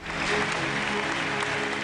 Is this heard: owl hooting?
no